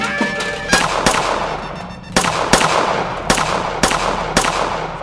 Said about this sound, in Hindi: गोली चलाइए